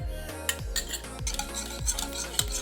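Honey is stirred into pancake batter with a spoon in a bowl, a quick run of rhythmic scraping and clinking strokes close by, with faint music behind.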